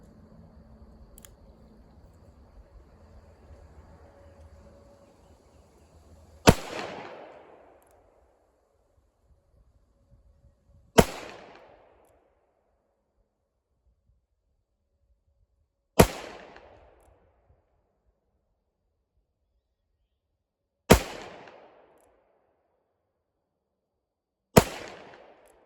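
.38 Special rounds fired from a bench over a chronograph: five loud, sharp shots spaced about five seconds apart, each with a short decaying echo and near silence between them.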